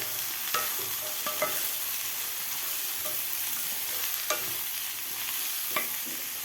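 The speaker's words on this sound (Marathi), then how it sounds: "आता भाज्या आपल्याला हे 2 मिनटं व्यवस्थित परतून घ्यायच्या आहेत खालच्या मसाल्यामध्ये." Mixed winter vegetables sauté in masala for a Bhogi-style khichdi, a steady close sizzle broken by a few sharp scraping stirs of the spoon against the pan, with no talking.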